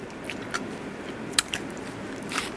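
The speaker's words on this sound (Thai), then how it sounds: "ขอเคี้ยวก่อนเนาะ" Crunchy chewing on Mae Ipim fried chili snack, a few close, crisp bites and crackles over a quiet background.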